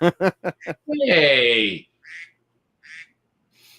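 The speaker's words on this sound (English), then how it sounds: "That duck you hear is my text That's message." Phone text message alert set to a duck quack tone, a rapid run of four loud nasal quacks followed by a drawn-out quack, then fainter trailing quacks, with a brief spoken greeting nearby.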